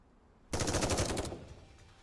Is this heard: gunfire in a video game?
yes